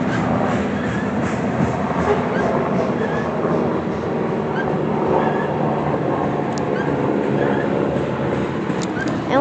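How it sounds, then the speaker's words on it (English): A long freight train rolls past close by during a three-way train meet, a dense continuous rumble and rattle of wagons holding steady at high level with faint clicking of wheels over rail joints; a voice may be briefly present underneath. "Wow, this is a long train."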